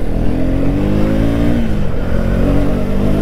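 A KTM Duke 250 motorcycle engine hums loud and close on a test ride, holding a steady mid-pitched drone with a slight rise and dip in revs partway through.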